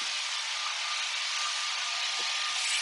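A Hummer drum floor sander running 36-grit paper across a maple floor gives a steady, loud, broadband whooshing roar that holds constant throughout without pause.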